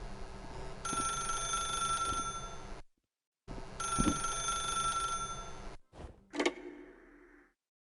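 An old-style telephone bell in the video game Oxenfree rings in two long, loud bursts with a pause between them, followed by a short clatter as the receiver is picked up.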